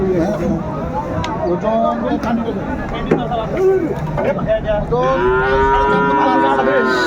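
Sahiwal bulls at a cattle market in Dinajpur moo repeatedly, several long, drawn-out calls close by and loud over a steady crowd murmur, with people talking throughout.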